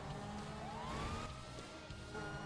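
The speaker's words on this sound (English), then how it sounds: "Lights on! Siren on!" A police car siren switched on in a video game, its rising wail sweeping upward and holding steady over continuous engine and road noise.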